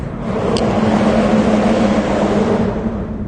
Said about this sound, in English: A car driving right over me.